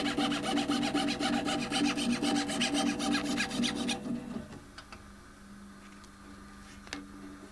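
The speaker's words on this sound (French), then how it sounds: "Chaque morceau qui va constituer la marqueterie est découpé séparément sur une scie, qu'on appelle une scie sauteuse." A jigsaw cuts marquetry wood veneer pieces with a rapid, steady buzzing rasp for about four seconds, then stops, leaving faint scattered taps and a low hum.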